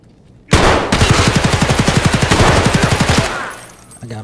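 Rapid automatic gunfire in a first-person shooter game, a loud burst of evenly spaced shots lasting nearly three seconds before it cuts off.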